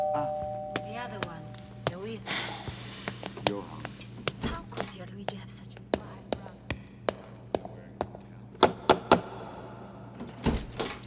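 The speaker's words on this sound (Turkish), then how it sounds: "Öyle açın kapıyı." A house door is opened for arriving neighbour guests, bringing a doorbell-like ring, knocks and a run of sharp taps and thuds, with people talking and greeting over the sounds.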